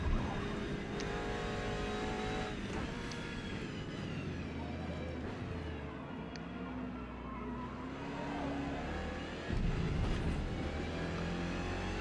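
Ferrari 488 GTE race car engine at Daytona in Forza Motorsport, a sustained engine drone with shifting revs and a louder surge near the end, beneath a low background bed.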